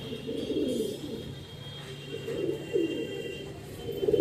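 Andhra and Chennai breed tournament pigeons cooing close by, soft repeated low coos in a loose rhythm over faint background hum.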